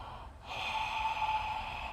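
One person inhales audibly through an open mouth, a close, airy rush that swells after a brief pause and holds steady.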